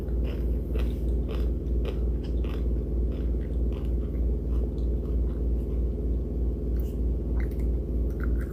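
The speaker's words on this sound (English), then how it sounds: "y'all can probably hear my washer. It's doing its spin cycle right now." A washing machine on its spin cycle makes a loud, steady low rumble that fills the whole stretch, with faint crunchy chewing sounds close by on top.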